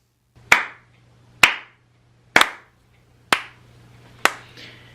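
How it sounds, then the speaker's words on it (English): Five sharp hand claps ring out alone, evenly spaced about a second apart, close and crisp, over a faint steady hum, as claps made to sync audio with video. "you see that we've got all these different hand claps"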